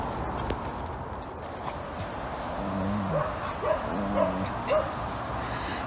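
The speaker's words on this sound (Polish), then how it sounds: "O, jaki pies szczęśliwy." A happy dog on an outdoor walk yips and gives short excited barks, several brief calls over a steady background hiss.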